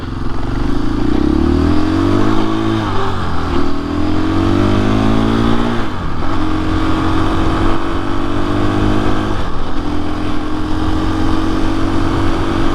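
A KTM motorcycle rides at about 45 mph, its loud engine droning steadily close up with rising and falling pitch as it shifts, and heavy wind rush throughout.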